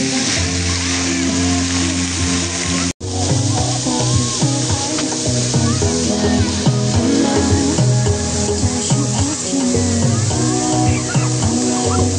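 Water in a small stream rushes steadily just below, a continuous close wash of noise that never lets up, with voices and other activity faintly mixed in.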